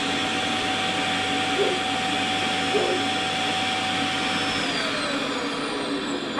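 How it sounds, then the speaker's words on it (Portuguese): A household vacuum cleaner runs with a loud, steady whine and roar that holds for the whole stretch, with faint voices in the background. "Posso ligar para passar o aspirador?"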